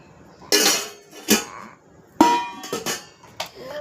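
Steel serving bowls, including one with a lid, clank and knock as they are picked up and set down: several sharp metallic hits spaced apart, close and fairly loud.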